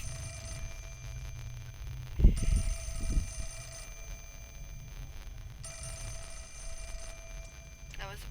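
A telephone rings in a steady, repeating electronic pattern throughout, with a brief thump and rustle partway through and no speech.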